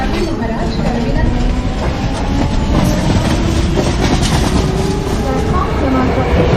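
A 12-car slow local train in the MSTS Open Rails simulator rolls into Masjid station, Mumbai, with a loud, steady rumble and rhythmic wheel clatter throughout, under a faint announcement voice.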